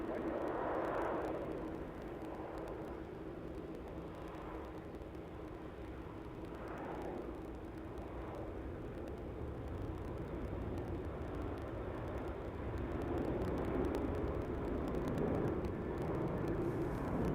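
A jet airliner takes off at Melbourne Airport, its broad engine roar heard at a distance, steady and moderately faint, with a low rumble running under it the whole time.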